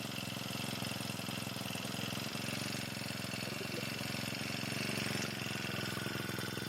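Idling engine of a Sharp Garuda power sprayer gives a steady, even drone with a dense rapid pulsing, unchanging and fairly quiet throughout, with no voices.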